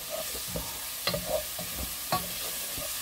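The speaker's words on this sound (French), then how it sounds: "Donc alors, on mélange les oignons." Onions frying in a pan and being stirred, a soft sizzle running throughout with several scraping strokes of the utensil against the pan, close and fairly quiet.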